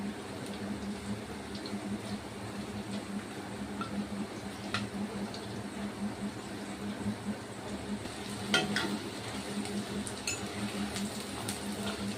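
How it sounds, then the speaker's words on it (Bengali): Steady sizzling of chicken pakoras frying in hot oil in an iron wok continues throughout, with occasional soft clinks and stirring scrapes, no voices. "লোহার কড়াইতে তেল গরম হয়ে গেছে। এবার এরকমভাবে পকোড়াগুলো আমি করে নিয়েছি কয়েকটা, এটা ভেজে নেব।"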